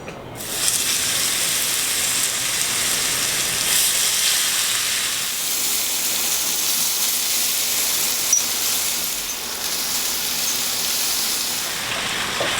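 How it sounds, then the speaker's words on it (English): Pieces of beef steak drop into hot oil in a non-stick pot for a stir fry, setting off a loud, bright, steady sizzle that hisses continuously for the whole stretch, with no talking. "And now I'm gonna add the pieces of steak."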